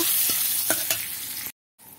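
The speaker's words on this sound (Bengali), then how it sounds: "কিছুটা কাজু বাদাম দিয়ে এইভাবে ভাজা ভাজা করে নেব।" Cashew nuts fry in ghee for basanti pulao while being stirred: a loud, steady sizzle broken by a few spoon scrapes, then a sudden brief silence before the frying noise returns.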